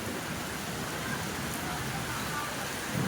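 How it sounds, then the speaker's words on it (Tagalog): Heavy rain pours down steadily in Montalban, Rizal, a dense even hiss of water on surfaces with no letup, fairly close. "maulan na dito sa amin, dito sa Montalban, Rizal, oh"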